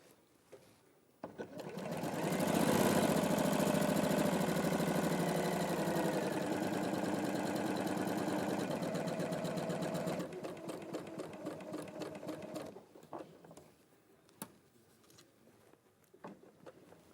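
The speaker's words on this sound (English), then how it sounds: "So I'm just going to sew that little bit there." Sewing machine stitching a short quilting seam, a close, steady mechanical whirr lasting several seconds before slowing and stopping, followed by quiet handling sounds.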